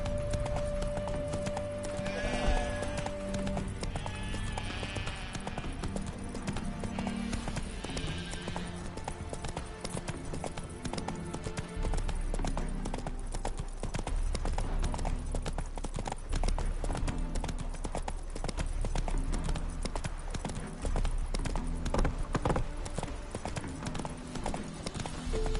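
Roach the horse's hooves clip-clop in a steady walking rhythm in The Witcher 3, with an occasional neigh, under continuous game ambience and music.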